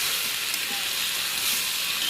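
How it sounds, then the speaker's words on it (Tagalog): Dried fish (tuyo) frying and browning in a pan, a steady close hiss and crackle of hot oil without pause, loud and unbroken. "butang nato ang tuyo para mo brown pud siya"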